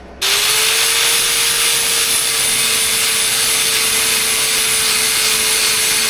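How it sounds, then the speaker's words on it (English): A 60-grit flap disc grinds a metal bonnet on an International B414, a loud, continuous close-up whine with a steady high-pitched tone that holds unbroken throughout. "Grind down again."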